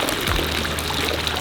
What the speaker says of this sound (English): we're gonna go and try some of this hot spring water